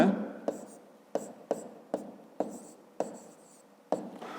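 Pen writing on paper during a fifth-grade maths exercise on angles, heard as a string of short, sharp scratchy strokes at an irregular pace, close and fairly quiet, with no talk.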